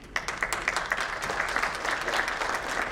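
Applause from seated attendees at a Florida medical cannabis conference and expo, fairly soft and distant, with individual claps audible in a continuous patter throughout.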